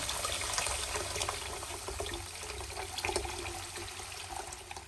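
Water is poured steadily into a roasted tomato soup mixture in a pot, about one and a half litres added in a continuous close splashing stream with no talk.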